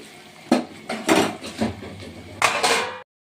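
A metal lid set onto a cooking pot of Bengali bhetki fish-bone chorchori, a few clanking knocks and scrapes of metal on metal close by, with a final louder clatter as it settles.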